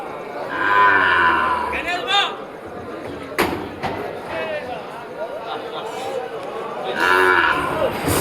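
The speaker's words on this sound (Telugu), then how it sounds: "ఇవి ఆవులండి ఇవి ఇవి వ్యవసాయం చేసేవి" Several farm cows moo loudly nearby, long low calls at the start and again near the end, with people chattering in the background throughout at a Thursday cattle market in Krosuru.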